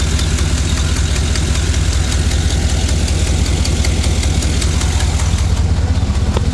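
A 6.2L V8 swapped into a GMC Sierra 1500 with a leaking exhaust manifold gasket idles loud and close, a steady deep rumble with a fast rhythmic ticking pulse throughout, no talk.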